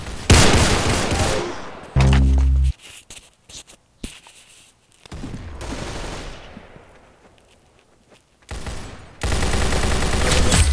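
Loud gunfire from the Roblox Arsenal game comes in sharp bursts, including a candy cane gun, with short rapid volleys separated by quieter gaps of game sound.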